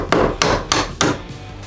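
A hammer taps a screwdriver to drive a door hinge pin out. Four sharp, evenly spaced knocks sound close and moderately loud.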